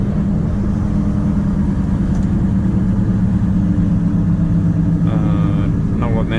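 A heavy loaded truck and trailer engine braking on a winter road: a steady, loud, low diesel rumble with a faint clatter near the end.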